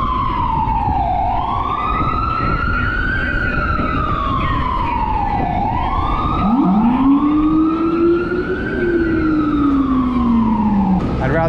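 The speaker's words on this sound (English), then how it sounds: "Now I'm going to be behind this noisy ambulance the whole way." An ambulance siren wails loud and near in traffic, its long rising and falling sweeps repeating steadily, with a second lower siren tone sliding in partway through over a constant road rumble.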